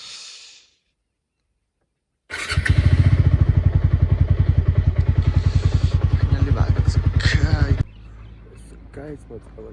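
A motorcycle is wheeled out and started on a cold morning, its engine idling loud and close with a steady rapid pulsing for several seconds before cutting off.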